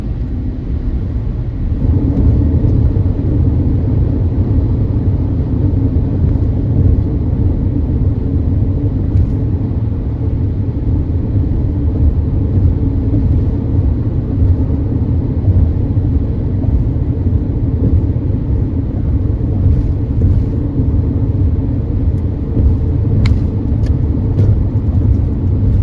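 Steady, loud road traffic in a New York metro area, a continuous low rumble of cars and engines with no breaks, faint higher hiss and a few brief clicks near the end, and no voices.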